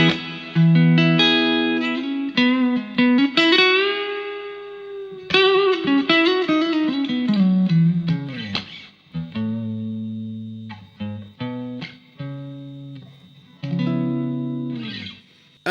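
Electric guitar phrases and chords played through a reverb pedal into an amp with its own reverb, notes ringing out with lush sustained tails between loud, close strums.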